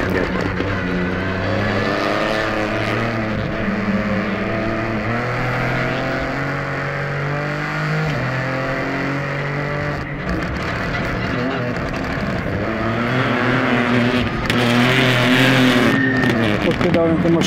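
1.2-litre three-cylinder car engine drones loudly and steadily from inside the car, rising in revs toward the end, while people talk over it throughout.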